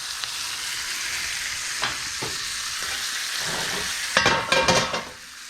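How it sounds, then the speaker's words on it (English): Steak sizzling steadily in a hot pan as butter is spooned over it, a constant close frying hiss broken by a few sharp spattering bursts and clinks near the end. "We're going to give it a little butter baste."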